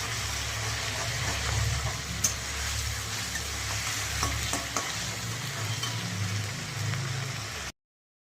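Spiced egg and potato curry (kosha) is stirred and fried in a pan: a steady loud sizzle with scraping stirs and a few sharp spoon knocks, and no talking.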